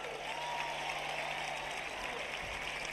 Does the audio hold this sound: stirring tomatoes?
no